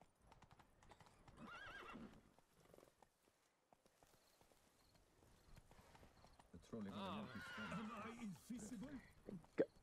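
Roach, the horse in The Witcher 3: Blood and Wine, clip-clops along at a steady gait and lets out whinnies and snorts in two bursts, with game sound and someone speaking.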